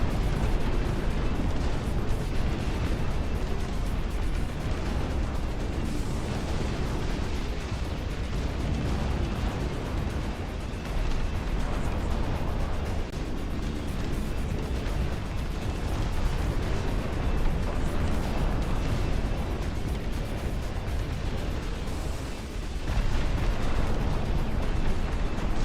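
Incendiary artillery shells burst in the Dust Front RTS real-time strategy game: a dense, continuous rumble of overlapping explosions and booms, loud and sustained with no clear gaps between blasts.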